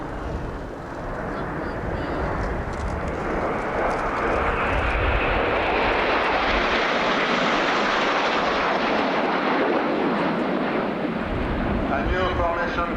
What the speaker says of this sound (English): will show you the Concorde now